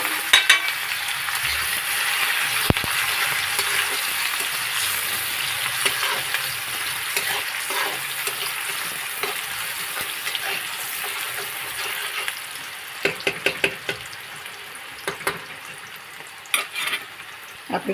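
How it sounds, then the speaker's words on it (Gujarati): Onions fry in hot oil with asafoetida and curry leaves, giving a loud, steady sizzle throughout, with a few clattering stirs of a spoon near the end. "આપણી થોડીક ડુંગળી શેકાઈ જાય"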